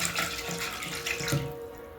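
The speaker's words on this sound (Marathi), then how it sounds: "2-3 पाण्याने मी स्वच्छ धुवून घेते." Water runs and splashes in a pot as butter is washed clean, a continuous close rushing flow that tapers off near the end.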